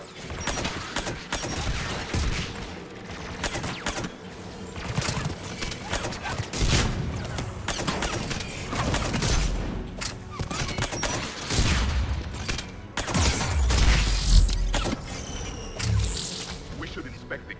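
Heavy, continuous gunfire from defensive guns guarding a tower in Mass Effect 3 thunders through a chaotic battle, with repeated booming volleys and impacts layered under music and effects, steady and loud throughout.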